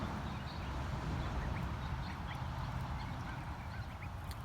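Domestic ducks quack, including drakes, in scattered calls. The calls sit within a loud, steady wash of background noise with no talking.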